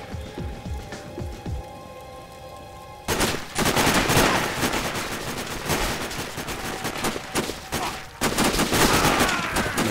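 Gunfire in the video game Sniper Ghost Warrior, a quiet stretch giving way to loud rapid bursts of shots and impacts that continue in dense clusters, with a brief lull before another heavy volley.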